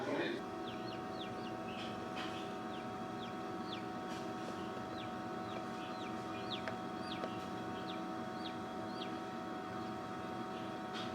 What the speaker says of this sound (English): I can hear little peep peep chirp chirp from inside the eggs here